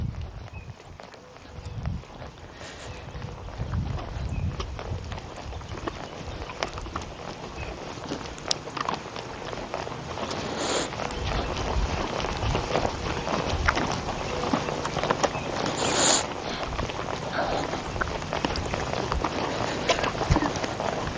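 A young horse walking in an arena, its hooves clip-clopping in a steady, even rhythm at close range, continuing throughout with no talk.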